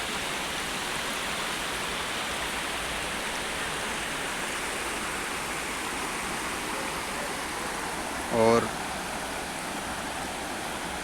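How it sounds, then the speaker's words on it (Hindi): The Amjhara waterfall pours down from above onto its lower pool, a steady, dense roar heard from the base of the falls, broken only briefly by a short spoken word. "यहाँ झरने के जो नीचे वाले हिस्से में हम खड़े हुए हैं और ऊपर झरना है"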